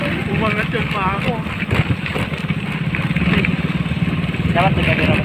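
A motorcycle rides over a rough road with a steady engine drone, wind buffeting and jolting bumps, while someone speaks excitedly over it.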